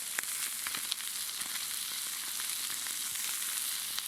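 Beef with onion, jalapeno and grated garlic sizzles in a pan while beef for a taco salad is cooked. A steady, fairly quiet frying hiss runs throughout with light crackles and occasional stirring scrapes, and nobody speaks.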